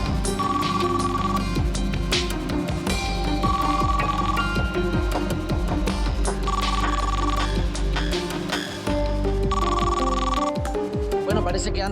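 A telephone rings on the line while a call is placed to Anton, the ring tone sounding in repeated bursts over a dense music bed.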